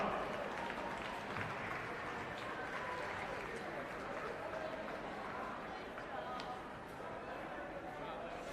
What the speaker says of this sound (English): Round of applause for United, ladies and gentlemen.